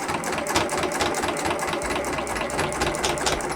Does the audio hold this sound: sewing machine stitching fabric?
yes